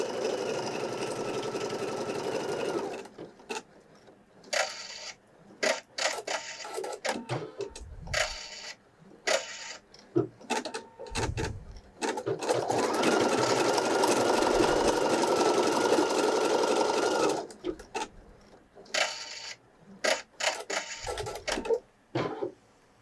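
A Pfaff Creative embroidery machine sews a straight-stitch placement line for applique, running in bursts of rapid mechanical needle chatter and whirring, broken by short pauses and clicks, moderately close with no speech.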